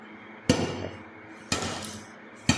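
A hammer chips hardened cement off a floor before floor tiles are laid, three sharp close impacts about a second apart, each with a brief ringing decay.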